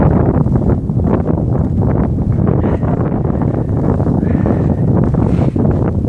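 Strong cold wind buffets the microphone in a steady roaring rumble for the whole stretch, loud and close, with no clear voices, on a winter sledding outing.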